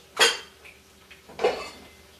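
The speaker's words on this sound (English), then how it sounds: "I'm going to get a bowl" A ceramic bowl clinks twice as it is lifted out and set down in a home kitchen, two short, sharp, close knocks separated by about a second of quiet.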